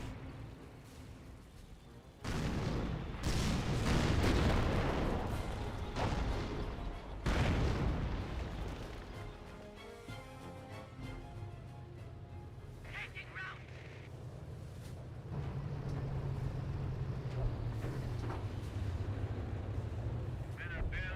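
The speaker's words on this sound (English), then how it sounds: "I hear some artillery running in back here. Looks like a creeping barrage." Artillery shells from a creeping barrage land in the Company of Heroes battle game, heavy booms and rumbling blasts repeating through a dense, continuous wash of combat noise.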